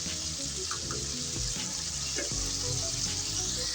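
Onions softening in a hot pan for masaledar aloo baingan, a steady loud sizzle with occasional stirring clinks and scraping throughout, no voices.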